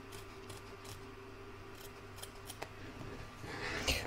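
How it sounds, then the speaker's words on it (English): Scissors snip through embroidery stabilizer on a machine-embroidered seashell piece, giving a few faint, close crisp cuts over a quiet background, with a sharper rustle near the end. "So I tend to cut there first, and I put my scissors in, hold my fingers at the back and hold it out the way,"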